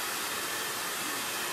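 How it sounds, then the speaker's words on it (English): A handheld blow dryer runs on a baby-shower chalkboard decorated with Chalk Couture, giving a steady, loud, unbroken rush of air with no voices and no change in pitch. "The blow dryer just took all the letters."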